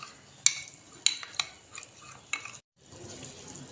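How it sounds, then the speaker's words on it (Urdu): A spoon stirs cornflour batter into a pot of chicken vegetable soup, giving several sharp clicks and scrapes against the pot amid a soft, steady background. "اب اس کے اندر ہم تھوڑا تھوڑا کر کے کارن فلاور ڈالتے جائیں گے اور ساتھ ساتھ چمچ میں ہلاتے جائیں گے"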